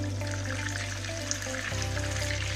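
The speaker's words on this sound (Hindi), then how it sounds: "फिश हमारी फ्राई हो चुकी है।" Lahori-style fish fries in hot oil with a continuous bubbling sizzle, close and fairly loud, under a low steady hum that shifts slightly partway through.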